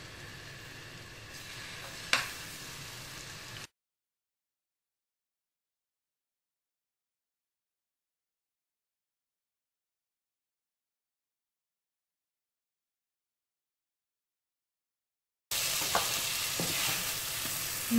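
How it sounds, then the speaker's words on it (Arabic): Chicken pieces sizzle in butter in a pot, with soft stirring scrapes over a steady frying hiss in two separate stretches broken by a long silence. "نزيد قطع الدجاج"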